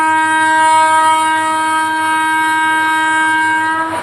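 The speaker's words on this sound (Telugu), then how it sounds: "హార్న్ కూడా నొక్కుతున్నాను" A train horn in an Android train video game sounds as one loud, sustained blast over a low rolling rumble, holding steady for about four seconds before fading slightly.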